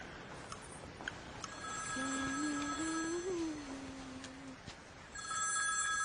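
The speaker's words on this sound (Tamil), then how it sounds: "இரு இரு நான் ஃபோன் பண்றேன்." A phone rings on the line after a call is placed during a Tamil film scene. A single wavering tone sounds for a couple of seconds over a soft, hissy background.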